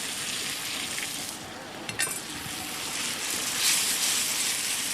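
Onions, tomato and green chilies with garlic-ginger paste fry in a hot pan, a steady loud sizzle with a brief clink of a utensil midway, no talking.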